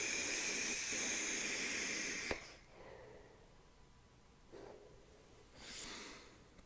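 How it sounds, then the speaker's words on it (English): A strong airy hiss of vapour being drawn through a Youde Goblin RTA rebuildable tank with wide-open airflow, loud and close for about two seconds, then fading to quieter exhales. "Oh, I'm gonna vape again."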